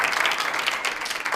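A studio audience claps steadily and densely throughout, a close, continuous wash of many hands at a talk show with no pauses.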